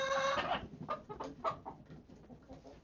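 Chickens cluck close by in a short burst, one loud squawk opening into a run of choppy, uneven clucks that fade slightly, with no talking.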